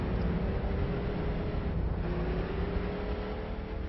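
Race cars in a heat race at New Smyrna Speedway roar in a dense, continuous engine drone, loud and steady as the field circles the track.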